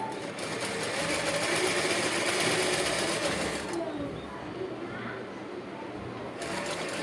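A sewing machine runs steadily while topstitching the square neckline of a ladies' churidar, its busy whirr dense at first, then easing off to a lower hum partway through, with faint bird cooing in the background.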